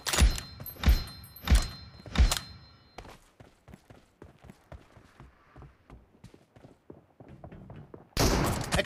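Four heavy, booming shots ring out in PUBG Mobile from an M24 sniper rifle, evenly spaced, followed by a run of lighter thuds and footsteps before a loud burst of noise at the end.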